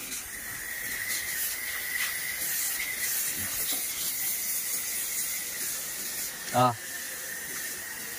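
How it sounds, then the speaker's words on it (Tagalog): Water sprays from a garden hose onto an outdoor split-type aircon unit being cleaned. A steady, even hiss runs throughout, with a short sharp knock near the end. "spray mo nga itong hose"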